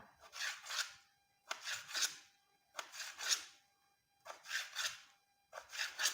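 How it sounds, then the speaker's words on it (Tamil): A knife slices potatoes for chips in five distinct bursts of crisp, close cutting strokes separated by short pauses, with no talking. "உருளைக்கிழங்கை கட் பண்ணி எடுத்துக்கோங்க."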